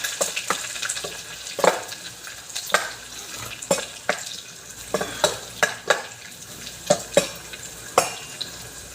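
Spoon or spatula stirs food frying in a smoking pan, steady sizzle under a string of sharp scraping knocks against the metal roughly every half second, close and clear, with no talking.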